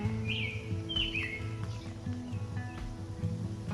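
Several birds chirp and tweet in short bright bursts near a freshly cleaned bird bath in a garden, over a steady low hum of background noise, with no talking.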